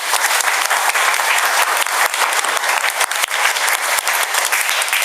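A church congregation in Côte d'Ivoire applauding together, steady dense clapping from many hands filling the space evenly and continuously.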